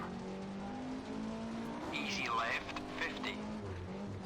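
A rally car in a racing video game revs under constant engine drone, then its tyres give a brief rising-and-falling squeal as it slides on the handbrake, with a voice talking over it.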